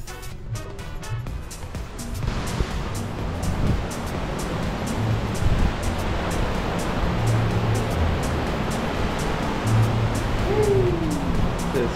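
Ocean surf rolling in beside a seaside store in Mexico: a steady, broad wash of waves with passing road traffic mixed in and no clear voices.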